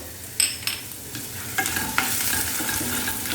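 Finely chopped ginger and garlic sizzle in a pan while a spoon stirs them, with a few sharp metallic clinks of utensil on pan over a continuous close frying hiss.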